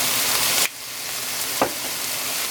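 Garlic frying in a pan for Alfredo sauce, a loud steady sizzle that drops briefly as the pan is moved, with a quick scrape of stirring before the hiss resumes.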